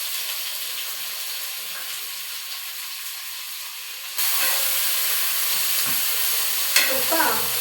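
Onion goes into a hot pan of water and seasoning for fried rice, and a steady hiss jumps into a louder sizzle. A few stirring scrapes follow near the end.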